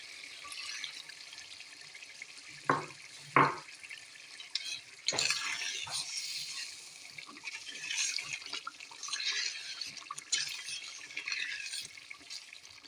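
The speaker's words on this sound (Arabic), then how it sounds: "نزيدوها شوية ماء ونغطوا عليها" Water is poured into a simmering Tunisian couscous sauce with bsbas (fennel) in a pot, then the lid goes on: a couple of sharp splashes and clinks, followed by steady close bubbling and sizzling.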